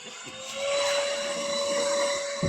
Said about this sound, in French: C'est mon aspirateur.